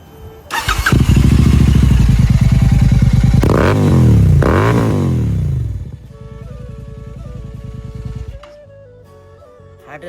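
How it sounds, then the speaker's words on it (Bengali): A Royal Enfield GT 650 motorcycle, 650cc, starts up with a loud deep exhaust roar, blips the throttle twice in rising revs, then settles into a steady lower idle thump close by. "আমি এই বাইকটার জাস্ট এক্সস্টার সাউন্ড শোনাবো"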